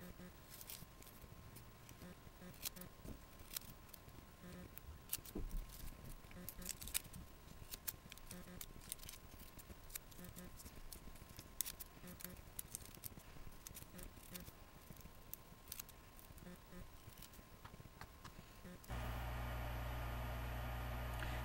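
Scissors snip through paper cupcake liners cut in three layers, a dense run of quick, close cutting sounds over steady background hiss, ending in a flat noisy stretch.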